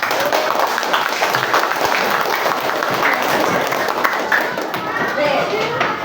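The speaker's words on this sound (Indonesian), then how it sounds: "dulu tepuk tangan" Classroom applause from students, a loud, dense patter of many hands clapping continuously, mixed with murmurs and chatter from the group.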